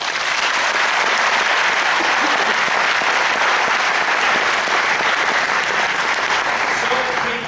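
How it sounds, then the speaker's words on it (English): Sustained, loud audience applause for Nobel laureates at a university event, dense clapping filling the whole stretch without a break. "Let's give them one more applause."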